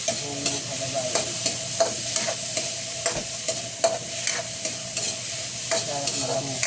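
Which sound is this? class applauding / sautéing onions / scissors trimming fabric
sautéing onions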